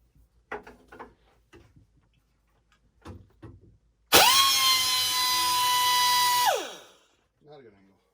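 Power tool cutting through a metal bolt with a loud, high whining screech that starts abruptly, holds for roughly two and a half seconds, then winds down, preceded and followed by scattered clicks and handling knocks.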